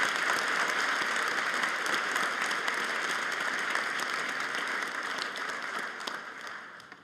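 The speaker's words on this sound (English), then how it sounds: "could you join me in a round of applause for all those that you've worked with here at SAIT?" Sustained, dense applause from a large audience at a college graduation convocation ceremony, steady and loud for several seconds before gradually thinning toward the end.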